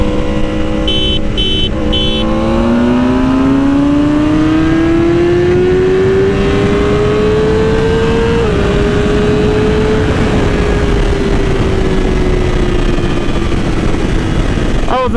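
A 2020 BMW S1000RR sports bike accelerates hard in a race, its loud engine note climbing steadily through the revs with a brief gear change midway, then holding a high, continuous howl amid heavy wind rush.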